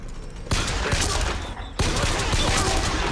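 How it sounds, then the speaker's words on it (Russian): Loud bursts of gunfire in the video game Bioshock Infinite, a dense fusillade of rapid shots that cuts in suddenly, dips briefly, then resumes just as heavily. "Сейчас стрельба пошла."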